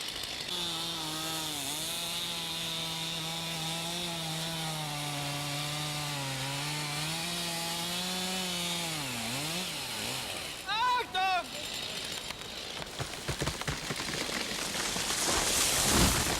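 A chainsaw idles and revs with a steady buzzing tone that bends in pitch, then cuts into a tree for a felling notch, ending in rougher, louder cutting noise.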